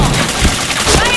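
Rapid gunfire in a video game, a dense burst of shots packed into about a second, loud and close.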